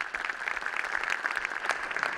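Audience applause at the President's Forum on Conflict Resolution in a performance hall, a steady, dense patter of many hands clapping at moderate volume, continuous without pause.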